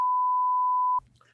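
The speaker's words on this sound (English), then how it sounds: "That is all beeped." A single steady censor bleep tone holds for about a second over a podcast conversation, then cuts off as faint, muffled talk resumes underneath.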